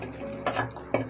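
A cooking pot of white alur dom lifted off a gas stove, giving two short metallic clanks and scrapes of the pan against the burner grate, close and fairly quiet.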